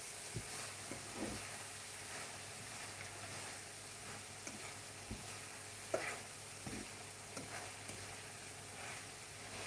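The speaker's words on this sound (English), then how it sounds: "So I'm going to add the seasoning in and just fry them for" Mushrooms fry with seasoning in a pan, giving a faint, steady sizzle with scattered small pops and stirring scrapes. No one speaks.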